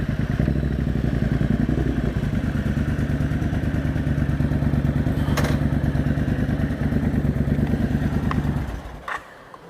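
A Triumph Bobber motorcycle engine idles loud and close with a steady, throbbing beat. Near the end it is switched off and dies away, leaving a couple of faint clicks.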